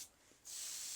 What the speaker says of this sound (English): Next, we can apply 3 coats of Tamiya Pure White spray lacquer